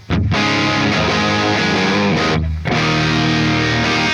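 Distorted electric guitar played through a Brit 45 amp model in Tonocracy software, with loud, saturated sustained chords that ring continuously, cut briefly once midway, then resume at full volume.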